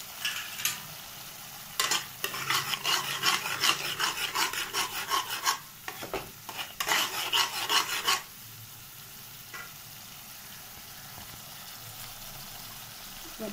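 A utensil stirs a spice paste with chili powder as it fries for a boal fish curry, making bursts of gritty scraping and rubbing over a faint sizzle, with quieter pauses between strokes.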